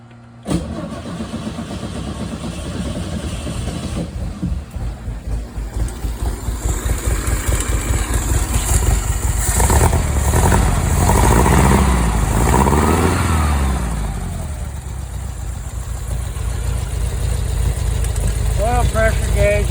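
A Meyers Manx engine cold-starts from a remote starter button, cranking rhythmically for several seconds before catching and settling into a loud, rumbling idle that swells and eases, with a voice talking over it near the end.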